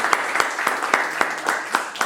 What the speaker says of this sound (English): They clap, you didn't clap.